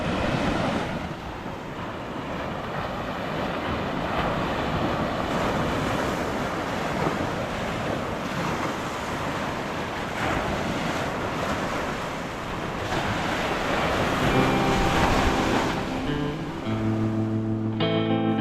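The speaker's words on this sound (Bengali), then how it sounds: "আর সমুদ্রের আওয়াজ দেখুন," Sea waves roar continuously at Fraserganj beach near Bakkhali, loud and close with wind buffeting the microphone, and music fades in over the last few seconds.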